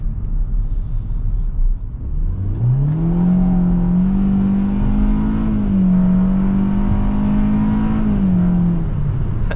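A 2024 Hyundai Venue accelerates from inside the cabin, its engine note rising and holding a steady drone with a slight tire spin at the start, loud and close over constant road rumble.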